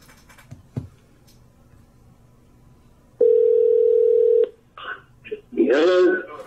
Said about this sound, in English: we're going to call John and see what his story is